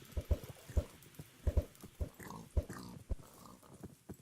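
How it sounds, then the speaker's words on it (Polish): Pigs in Minecraft grunt and oink in short bursts with thumping footsteps, several close sounds spaced irregularly across the scene. "chodź tu, świnio"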